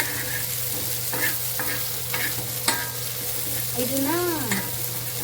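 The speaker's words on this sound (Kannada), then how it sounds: "ಇದನ್ನ ಇವಾಗ ನಾವು ಸ್ವಲ್ಪ ಎಣ್ಣೆಯಲ್ಲಿ ಫ್ರೈ ಮಾಡ್ಕೊಳ್ಳೋಣ." Sprouted green gram frying in oil in a pan makes a steady close sizzle, with stirring scrapes and clicks; a voice speaks briefly over it.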